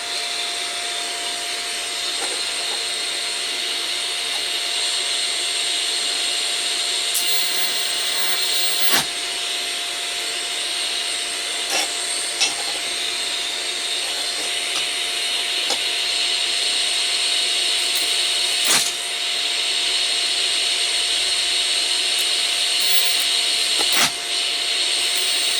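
TIG welding with a Lidl Parkside PTMI-180A1 inverter welder set to 70 amps, a steady loud hiss and buzz with a constant tone running throughout, broken by a few brief sharp clicks.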